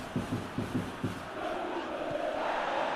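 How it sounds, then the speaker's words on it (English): A stadium crowd in the football video game PES 2021 roars and cheers steadily, with a few rhythmic chant-like swells early on, a dense distant wash of voices filling the whole stretch. "the crowd clearly like what they just saw"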